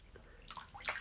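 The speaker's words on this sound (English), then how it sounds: "I've got some liquid just on the top. I'm going to pour that out" Liquid from the top of a vintage shaving preparation poured out, a brief faint splash and trickle lasting about a second, close and quiet.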